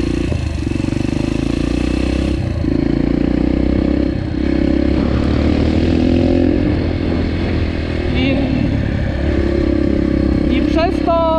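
Yamaha TTR off-road motorcycle engine running steadily close by, its low throaty drone rising and falling with throttle blips and revs through the clip, ridden along a rough track through brush, with mechanical clatter.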